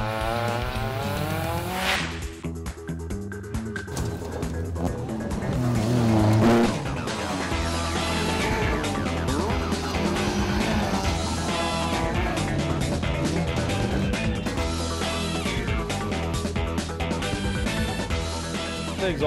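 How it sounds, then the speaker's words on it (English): Loud rally car with a free-flow exhaust, a harsh engine roar that stays close and steady with shifting revs and a brief surge, no voices. "And here we have the free flow exhaust system. As you would have heard it, it's very, very loud."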